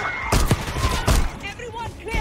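Gunfire in the Call of Duty Black Ops 6 campaign: two loud, close bursts of shots with heavy low thump, followed by quieter game sounds and faint voices.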